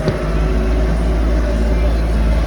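A tractor engine ploughs a soaked, muddy field after a night of heavy rain, its wheels slipping; a loud, steady low engine drone runs continuously throughout, close by.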